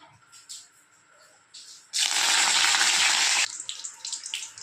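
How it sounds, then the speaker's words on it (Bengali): Curry leaves drop into hot oil left from frying onions and set off a sudden loud, hissing sizzle that holds for about a second and a half, then settles into lighter, scattered crackles. "ফোড়ন দিয়ে দেব কারি পাতা"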